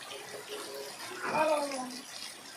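Heavy monsoon rain pours off a roof sheet in a steady, rushing splash. It is fairly faint and continuous, with a brief tonal call rising above it midway.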